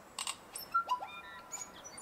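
A person imitating a bird call, producing a quick series of thin, whistled chirps and tweets with short gaps between them, close and fairly quiet, no talk.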